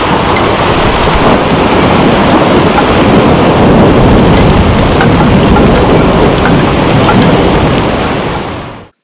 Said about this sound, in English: I could create the most heinous, aggressive, baneful thunder magic you've ever known by calling in a severe storm